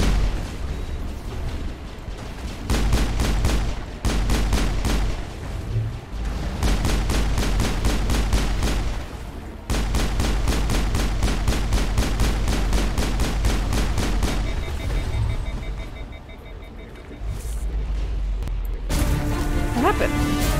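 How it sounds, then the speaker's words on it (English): Rapid bursts of gunfire from Mass Effect combat on Virmire, loud and sustained with repeated rhythmic volleys and brief gaps, mixed with game music and effects. "why am I shooting my own allies?"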